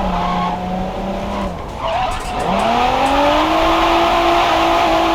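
A 500-horsepower car slides sideways in a drift video game, tires squealing over a droning, revving engine whose pitch dips and then climbs steadily as the slide continues.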